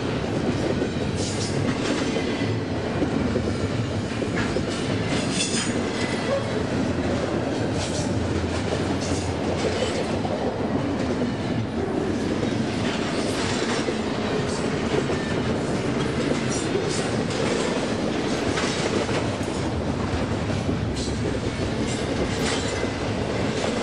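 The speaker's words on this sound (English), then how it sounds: "I wonder how long this freight's gonna be." Long freight train rolling past at Fullerton, a loud unbroken rumble of railcars with rhythmic clickety-clack from the wheels and occasional metallic squeals, sustained throughout.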